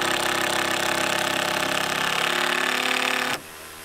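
Power drill driving a screw into wet wood during stone house construction, a loud steady whirring that strains and then cuts off abruptly near the end.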